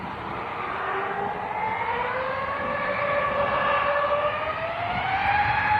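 A departing EasyJet airliner bound for Amsterdam at Manchester Airport, giving a steady, fairly loud engine roar with a rising whine that holds throughout, with no talking over it.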